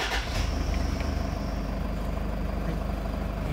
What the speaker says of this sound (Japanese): ではエンジンかけております